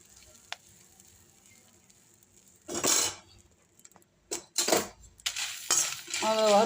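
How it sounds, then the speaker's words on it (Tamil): Fresh curry leaves and asafoetida being dry-roasted in a kadai, heard as a few bursts of metallic scraping and clinking of a spoon against the pan, close and loud between quiet gaps, with a short faint voice at the end. "பச்சை கருவேப்பிலைன்றதுனால லேசாக வறுத்துடலாம்"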